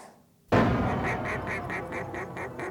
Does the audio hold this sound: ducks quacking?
yes